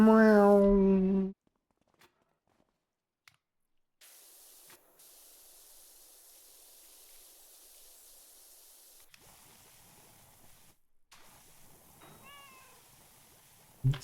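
A cat gives a loud, close meow at the start, then a long stretch of soft hissing spray like a shower running, with faint short chirping cries near the end.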